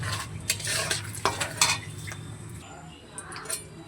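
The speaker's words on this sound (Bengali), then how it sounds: "এবার এই তেলের মধ্যে ফোড়নে দিয়ে দেবো গোটা শুকনো লঙ্কা, তেজপাতা আর গোটা গরম মশলা।" Whole dried red chilies, bay leaves and whole garam masala spices crackle as they temper in hot oil, a soft sizzle broken by clinks and scrapes of a utensil against the pot.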